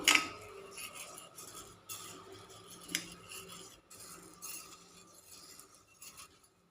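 Rice being dry-roasted in a pan over a medium flame for Karkidaka unda, with a metal spoon stirring it: irregular scraping and light clinks, close and moderately loud, with no talking.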